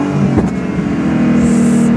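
A car engine revs and pulls during drifting practice, a loud, close engine note that climbs briefly then holds a steady strained drone.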